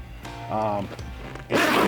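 Zipping of the front zipper on fishing waders gives a short, close rasp, followed by a longer second pull, with someone talking around it.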